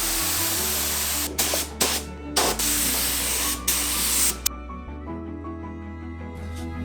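A cheap spray gun paints a car yellow at home, hissing in several bursts of a second or so with short breaks, then falling to a quieter background hum.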